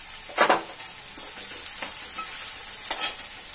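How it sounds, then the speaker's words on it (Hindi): Onions frying in a pan for masala Maggi: a steady crackling sizzle broken by three brief louder stirring scrapes, close up and with no one talking. "हमारे प्याज भून रहे हैं थोड़ा सा।"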